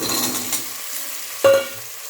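Drumsticks (moringa pods) frying in a pan for a drumstick curry, with a soft sizzle and a sharp stirring scrape near the middle, close and fairly quiet.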